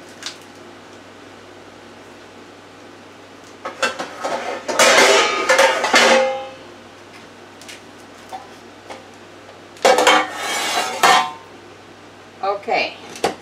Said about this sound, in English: Let me get a pan.